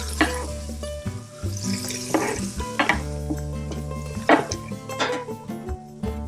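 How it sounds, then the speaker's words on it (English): Onions and garlic dropped onto rendered bacon in an Instant Pot, sizzling steadily beneath close clattering and scraping of a utensil against the pot. "Now I'm just going to add the onions and garlic too"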